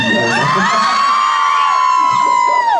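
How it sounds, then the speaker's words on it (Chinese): Audience at an outdoor charity concert screaming and cheering loudly, high shrill shouts and whoops from a dense crowd filling the air continuously for a few seconds. "要点尖叫声才可以啊"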